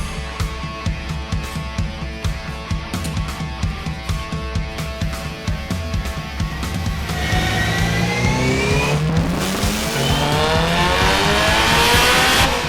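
A Mazda RX-7 rotary engine revs hard on a dyno in steady pulses, then climbs to a sustained high-pitched roar as it accelerates, loud and close.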